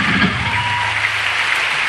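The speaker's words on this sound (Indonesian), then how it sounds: "Tepukkan daripada Detach International." Steady applause from a live concert audience in Singapore, a dense wash of clapping that holds evenly throughout with a faint murmur underneath.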